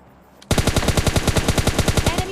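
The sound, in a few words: gunfire in the video game PUBG Lite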